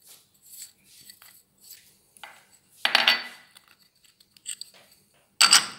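Maida and semolina being stirred together for papdi dough give intermittent scraping and clinking of a spoon against a bowl, with a few louder scrapes between quieter rubbing strokes.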